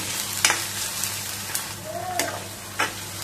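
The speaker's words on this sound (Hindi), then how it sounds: "सभी चीजों को मिलाकर अब इस मसाले को हम अच्छे तरीके से भुनेंगे।" Masala of onion, bitter gourd peel and grated raw mango roasting in a pan, a steady low sizzle with a few sharp scrapes of stirring.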